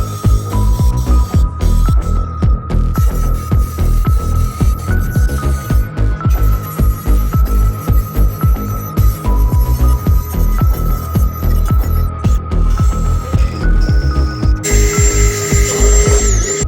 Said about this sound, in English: I'm gonna go ahead and cut this.